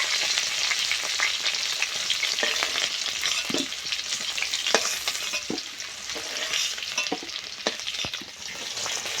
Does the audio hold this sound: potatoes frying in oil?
yes